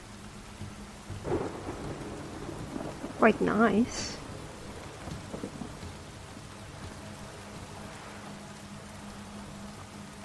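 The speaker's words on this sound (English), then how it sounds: "A storm, damn it." A rainy thunderstorm in The Witcher III video game: steady hiss of rain with a low rumble of thunder swelling briefly, while someone speaks over it.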